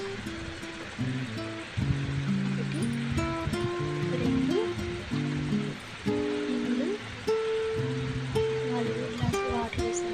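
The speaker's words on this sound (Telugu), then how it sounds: "దీనిలోకి వాటర్ వేస్తున్నానండి." Water pours from glasses into a cooking pot of washed rice for vegetable biryani, a continuous splashing rush under a person counting aloud and background music.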